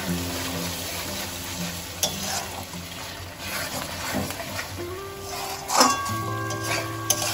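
Spice paste sautéing in a wok with a little added rinse water, a soft continuous sizzle with occasional stirring scrapes and clinks, close and moderate, with faint tonal kitchen background.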